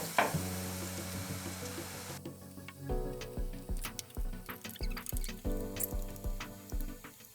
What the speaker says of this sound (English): Fry the eggplants.